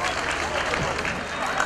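A festival award ceremony audience breaks into applause, a dense, steady clatter of many clapping hands lasting under two seconds, with no talk over it.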